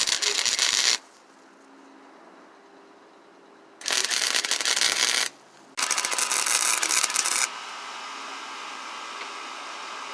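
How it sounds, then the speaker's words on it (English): Scrap metal triangles are MIG-welded together in loud, crackling bursts of buzzing arc, about three sustained runs separated by quiet pauses, close up and with no talking. "I'm going to weld them together just like that real quick"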